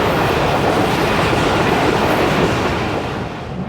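A passenger train on the Multan to Lahore route runs along the rails with a loud continuous rumble and rattle that eases slightly toward the end.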